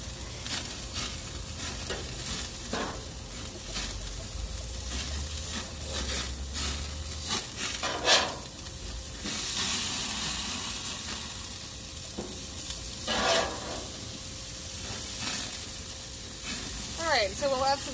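Burgers sizzle steadily on an outdoor grill, a continuous hiss and crackle with occasional louder spits and scraping, while people talk intermittently over it.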